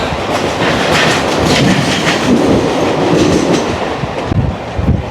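A Mumbai local train runs through Chinchpokli station, loud and close from inside, with a steady roar and rhythmic clickety-clack of wheels over rail joints that grows heavier toward the end.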